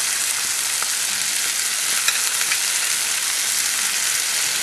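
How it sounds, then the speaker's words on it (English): Chickpeas, black beans, garlic and shallot sauté in hot oil, giving a steady, close, dense sizzle with faint stirring ticks and no talking. "you saute the chickpeas, and the black beans, the garlic, and the shallot in the oil"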